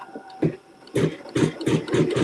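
Sewing machine stitching a tack down on quilt fabric, heard as a few short bursts of fast mechanical whirring that start and stop in quick succession, close and fairly loud with no talking.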